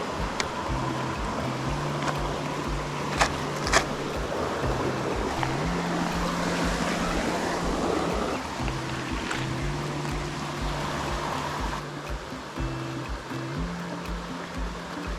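Small mountain trout stream at Boggs Creek in the North Georgia mountains rushes steadily with constant water noise, broad and even throughout, under a faint low hum.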